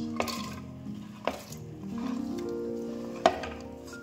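A metal pot of chopped bottle gourd is set on a kitchen stove to boil, with three sharp clanks of cookware spaced a second or two apart over a quiet room hum.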